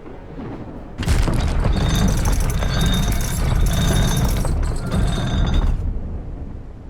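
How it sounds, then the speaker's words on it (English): Trebuchet shots strike an ashlar stone castle during a siege in the medieval survival game Reign and Ruin: a sudden loud rumbling impact sustains for about five seconds with crashing debris, then fades to low ambience. "sieging a castle made out of ashlar stone is actually going to take multiple rounds of Trebuchet shots"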